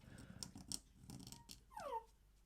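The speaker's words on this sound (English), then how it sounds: "that's my dog yawning." A dog gives a brief, squeaky yawn near the end, a short descending whine over quiet room noise.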